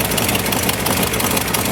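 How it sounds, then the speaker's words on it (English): A 1964 Ford F250 4x4 with a 292 Y-block V8 idling with a wide-open exhaust leak where the crossover gasket fell out, loud and close, a steady rough low rumble with rapid ticking pulses. "wide open exhaust leak right there."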